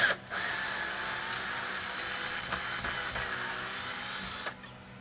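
A power driver runs a screw into a wall to mount a flag pole, giving one sustained whirring, ratcheting drive of about four seconds, close and steady, before stopping abruptly.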